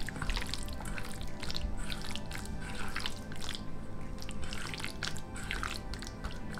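Oil is poured into a mix of spiced chicken for chilli chicken, giving a steady, close liquid trickle with faint drips and no voices over it.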